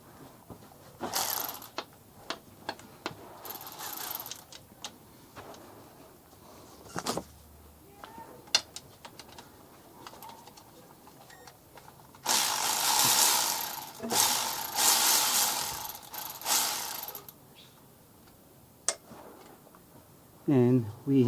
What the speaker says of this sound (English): we are going to use a 10mm socket